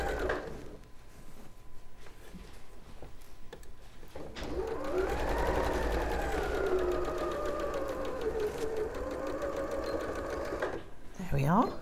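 Sewing machine running steadily for several seconds while stitching a curved seam on a sashiko-style komebukuro fabric basket, close and fairly loud, with quiet talk before and after the run.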